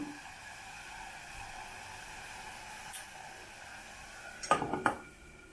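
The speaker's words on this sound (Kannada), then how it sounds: "ಜಲ್ದಿನೇ ಮುಚ್ಚಿಡ್ತೀನಿ ನಾನು ಇದನ್ನು" A pot lid clanks down onto a simmering pot of brinjal palya: low hiss for several seconds, then two or three quick, close metallic clatters near the end.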